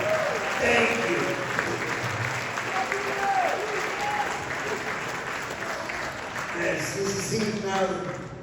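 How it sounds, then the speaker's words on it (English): Hall of Fame ceremony audience applauding loudly and steadily throughout, a dense sustained wash of clapping with scattered voices and cheers mixed in. "You should give that a round of applause."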